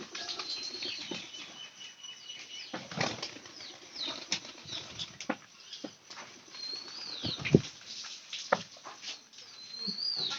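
Pigeons in a loft flap their wings in repeated short bursts, some loud and close, with quieter rustling and faint bird calls in between.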